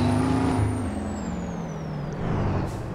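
A truck's air brakes hiss loudly in Farming Simulator 22 on a Wyoming ranch, a sustained pneumatic release over a low idling engine rumble, with no talking.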